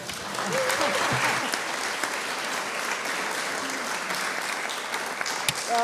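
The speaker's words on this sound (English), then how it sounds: "if we could have a round of applause for our moderator here" Audience applause at a House District 34 candidate forum, a steady dense round of clapping from a room of people filling the whole stretch at moderate loudness, with brief voices faintly underneath.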